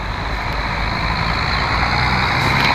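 A John Deere 5075E tractor on 18-inch tyres, in PR gear with a trolley, runs with a loud, steady engine roar that stays close and constant throughout, with no voices.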